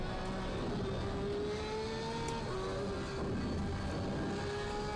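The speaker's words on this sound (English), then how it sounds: "Listen to that when you downshift." A race car engine in the sim racing game Assetto Corsa Competizione drones steadily, its pitch stepping down in stages as gears downshift, loud and continuous.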